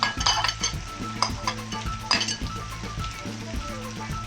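Garlic frying in a pan for chicken with pineapple juice, with a utensil stirring and clinking against the metal in quick repeated strokes over a steady, close sizzle.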